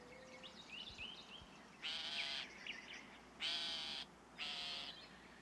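A northern shrike calls in the wild: scattered soft chirps, then three loud, harsh, buzzy calls in separate bursts of about half a second each against a faint outdoor background.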